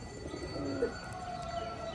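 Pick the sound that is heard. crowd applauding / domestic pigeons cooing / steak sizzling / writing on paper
domestic pigeons cooing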